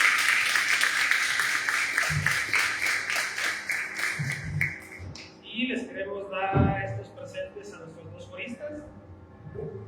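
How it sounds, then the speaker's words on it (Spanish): Audience applause for speakers at a history forum, dense clapping for about five seconds that then thins into scattered claps and murmuring voices. "Les damos un aplauso, por favor."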